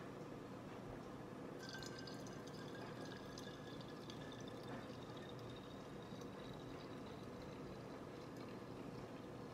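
Spring water runs steadily into a hand soap bottle, a faint continuous trickling and filling sound with a slight rising tone, quiet and close.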